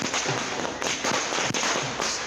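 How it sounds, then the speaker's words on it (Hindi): Fireworks and firecrackers go off at a political celebration held by supporters, a dense, loud, continuous crackle of rapid pops and bangs with no pause. "उनके समर्थकों ने ढोल बजाकर और आतिशबाजी कर जश्न भी मनाया"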